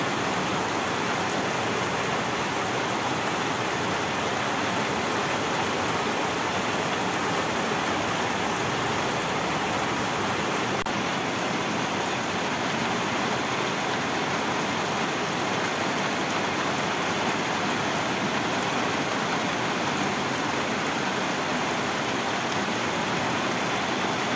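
Steady, dense rain falls continuously, a loud even hiss without pause.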